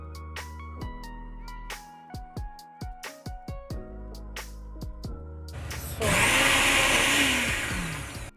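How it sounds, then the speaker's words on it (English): Eggplant for sauce goes into a kitchen blender. Scattered knocks and clicks come first, then the motor roars loudly and steadily for the last couple of seconds. "I'll be using the blender to blend this."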